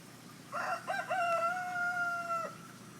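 A rooster crows once, a clear, drawn-out call lasting about two seconds against a quiet background.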